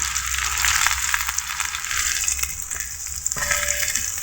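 Chopped onion and halved green chillies frying lightly in oil while a knife stirs them, a steady bright sizzle with faint scraping taps throughout.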